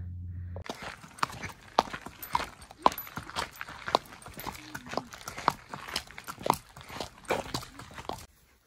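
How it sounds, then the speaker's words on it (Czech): Horses moving around a farm paddock, their hooves clip-clopping up close in a busy, uneven rhythm of sharp knocks that runs for several seconds, with no talk. "Koně jsme našli, spravíme výběh"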